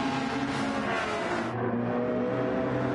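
A Porsche race car in Gran Turismo 7 accelerates from a grid start, its engine note rising steadily and loudly as it gathers speed, continuous throughout.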